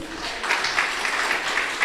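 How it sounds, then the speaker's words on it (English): Conference audience at a climate accelerator demo day applauds the presenters, a dense, even patter of many hands clapping at moderate volume across the short stretch. "let's give them a big round of applause"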